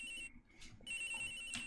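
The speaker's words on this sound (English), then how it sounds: "Agent Hick's phone! It's ringing from somewhere, sir!" A phone ringing inside the Ace Attorney Investigations video game, a steady electronic ringing tone with a short break, moderately quiet.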